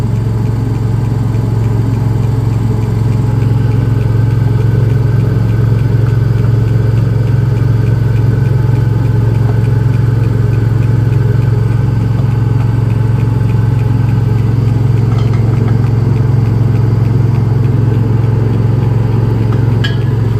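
An RV generator runs steadily close by, a loud, constant low engine hum with a strong droning tone that holds evenly throughout, with no speech.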